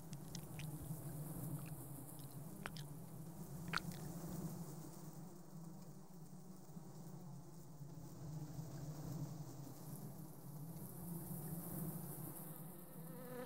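A wasp buzzes near a praying mantis, a soft continuous insect drone with a few faint ticks and taps, quiet and without speech.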